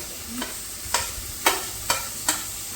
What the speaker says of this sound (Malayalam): ഉള്ളി ജസ്റ്റ് വഴന്ന് വരുമ്പോൾ തക്കാളി ഇടയുന്നത്